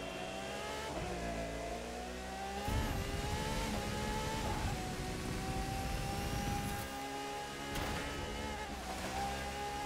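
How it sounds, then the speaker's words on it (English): V12 supercar in The Crew 2 racing game, a sustained engine roar with several rev changes and pitch swells, a sharp loud surge near the three-second mark, and a steady high whine layered over the drone. "Got this V12 sound"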